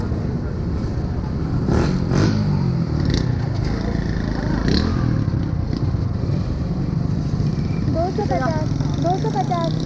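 A 250 cc motorcycle ridden on the road, captured by a helmet-mounted GoPro microphone: continuous engine drone with wind rush and road noise throughout, shifting pitch as it revs, with a rider's voice faintly heard.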